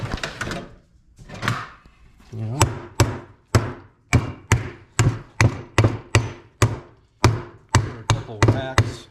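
Repeated hammer whacks fitting a recoil starter onto a Honda ATC185S three-wheeler, about a dozen sharp, loud, evenly spaced blows following a brief stretch of muffled handling.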